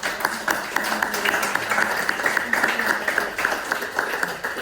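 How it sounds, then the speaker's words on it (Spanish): Audience applause at a corporate presentation in Spain, an uneven burst of clapping from a seated crowd that swells and dips over a few seconds, with voices faintly mixed in. "un aplauso muy grande para las personas"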